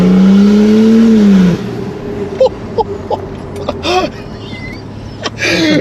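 A turbocharged Holden VL sedan pulls away up the road, its engine tone rising loud and close for about a second before dropping off, followed by a distant whine and sporadic short bursts of sound.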